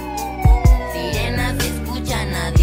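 Siren wails woven into a song, a descending electronic whine over heavy bass beats and music, loud and upfront.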